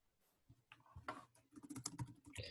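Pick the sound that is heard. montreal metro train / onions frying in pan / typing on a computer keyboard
typing on a computer keyboard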